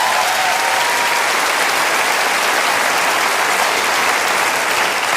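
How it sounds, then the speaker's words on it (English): Audience at a comedy festival debate applauds steadily, a dense, even wash of many hands clapping with no talking over it for several seconds. "Yeah, give them a round of applause."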